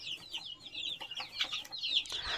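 Desi village chickens of the gavthi breed cluck in a quick, busy series of short calls, close and fairly loud, with no talking.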